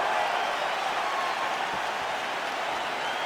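An arena crowd in a UFC fighting game murmurs and claps restlessly, a broad, steady wash of noise filling the space without a break.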